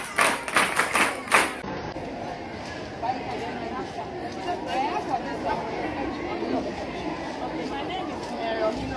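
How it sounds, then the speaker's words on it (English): An audience at an advocacy programme event claps in a brief burst of sharp, close handclaps at the start. The clapping then fades into a murmur of crowd chatter and scattered voices. "Clap for yourself."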